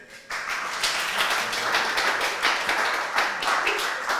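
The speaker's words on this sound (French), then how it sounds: "Applaudissez pour Chrissy." An audience claps for Chrissy after a round of a French comedy contest show. The clapping starts abruptly after a brief quiet moment and continues at a steady, moderate level for about four seconds.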